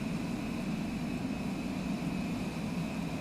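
A Cessna Longitude business jet climbing after takeoff in Microsoft Flight Simulator 2020 gives a steady, unbroken engine roar with an even cabin hum and no voices.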